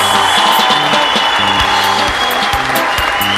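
Audience applause fills the clip at a stage show or event, a dense steady clatter of many hands clapping close and loud from start to finish, with a tonal music bed running underneath.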